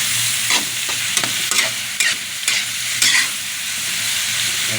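Liver stir-frying in cooking oil for chopsuey makes a loud, steady sizzle close by, with a run of sharp spatula scrapes and taps in the first three seconds before the hiss carries on alone.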